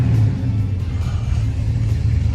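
Plymouth Superbird muscle car engines rumbling at a speedway gathering of aero cars, a loud, low, continuous drone with slight surges, close by and with no talk.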